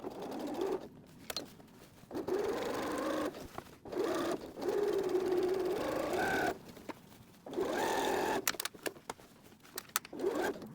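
A sewing machine top stitches around a fabric library bag, its motor whirring in several steady runs separated by brief pauses, close and without talking.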